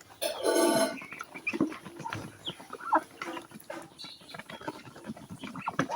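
Ducks and chickens on a farm: a burst of loud clucking calls at the start, then scattered bird calls and soft shuffling patter nearby, with no talking.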